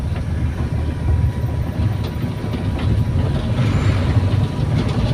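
A Mitsubishi T120SS Kijang engine fitted with a super CDI ignition runs on the move, giving a steady, loud low rumble and drone with road noise throughout.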